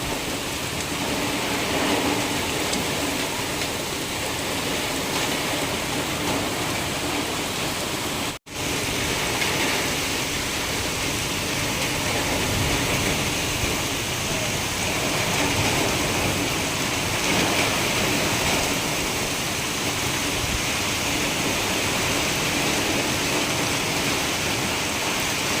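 Heavy rain pours down steadily in a village, a dense, unbroken hiss and patter close by that holds almost constant loudness, with one brief dropout partway through.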